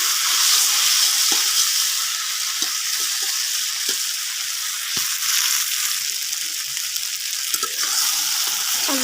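Taro stolons, kochur loti, sizzle steadily as they fry in oil in a pan, with a constant close crackle and occasional scrape of stirring.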